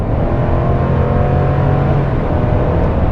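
A 2022 Chevrolet Silverado High Country with the 6.2 liter engine pulling hard from inside the cab, a loud, steady low engine drone with road roar throughout.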